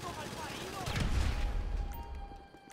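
Dense, continuous roar of minigun fire in the video game GTA V Online, loud and sustained with a heavy low rumble, while someone talks over it.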